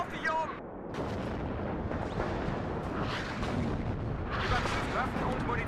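Artillery fire in WARNO, a continuous rumble of heavy shots and blasts at moderate volume, with voices talking over it.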